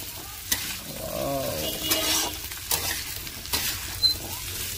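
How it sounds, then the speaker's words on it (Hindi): Pointed gourd and potato pieces frying in a pan while being stirred, giving a continuous sizzle broken by several scraping, clattering strokes of the spoon spread across the clip, close and fairly loud. "इसको चलाऊंगा बढ़िया तरीका से मिक्स करूँगा इसमें"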